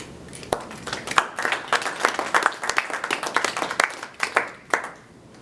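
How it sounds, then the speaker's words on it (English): Sparse, uneven clapping from a small audience after a talk on voting, individual hand claps standing out clearly with gaps between them rather than a full ovation. "Got kind of a mixed applause here"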